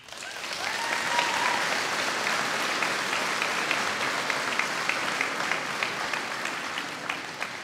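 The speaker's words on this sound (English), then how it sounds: "can we give a massive, massive round of applause for our first graduating class today" Steady applause from a school graduation ceremony audience as the first graduating class is honoured, swelling quickly into dense, even clapping that carries on for several seconds without speech.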